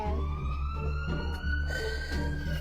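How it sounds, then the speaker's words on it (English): A police car siren wails steadily nearby, its rising and falling tone sliding slightly as the car passes, heard over low traffic rumble. "Suddenly, an actual police car passed by right at that moment"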